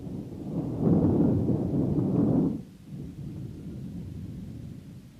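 Stormy night wind roars in a low, heavy rush that holds steady for a couple of seconds, then drops abruptly to a softer, continuing howl.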